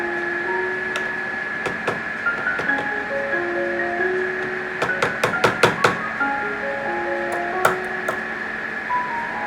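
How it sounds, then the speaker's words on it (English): Sharp, light taps of a small piece of wood pressing an oval crystal down into its ring setting, some single and some in quick clusters, close up over a steady background hum and a shifting tone. "Is take a little piece of wood and just tap it down."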